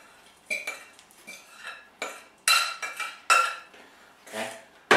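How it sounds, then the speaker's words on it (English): A metal spoon scrapes and clinks against a cake tin while pressing down a biscuit base for banoffee pie, in several short, close strokes at an uneven pace. "stir that evenly and push it down with the back of a spoon"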